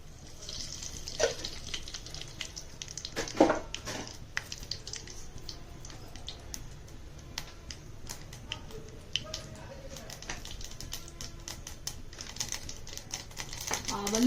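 Mustard seeds crackle and pop in hot oil for tempering, with curry leaves, a dense scatter of small sharp spits with a few louder bursts throughout.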